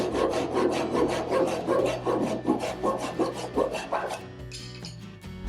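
A Japanese hand saw with big coarse teeth cuts through wood in steady back-and-forth rasping strokes, close and fairly loud, with no one talking.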